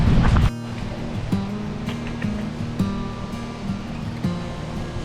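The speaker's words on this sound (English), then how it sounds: "It is very windy. There's a high wind advisory." Strong wind buffeting outdoors under a high wind advisory on a hike, a loud rushing roar at first that drops to a steady gusting noise with occasional faint tonal sounds in the background.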